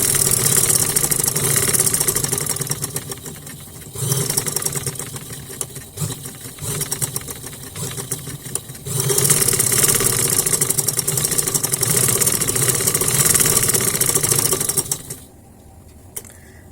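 A sewing machine stitches the neckline of a velvet shirt with a fast mechanical whirr, running in long steady bursts that stop briefly now and then and cut off near the end.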